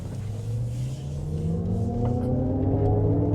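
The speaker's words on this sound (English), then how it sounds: "let's go ahead and give it a little bit of gas or a small acceleration here" A 2025 Cadillac Optiq electric SUV pulls away gently, its motor whine climbing smoothly in pitch over a low road rumble, fairly quiet and continuous inside the cabin.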